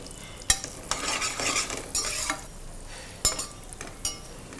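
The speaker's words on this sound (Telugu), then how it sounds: "కిస్మిస్ తొందరగా వేగిపోతుంది." Raisins and cashews frying in ghee, a soft crackling sizzle punctuated by several sharp spoon scrapes and clinks against the pan as they are stirred.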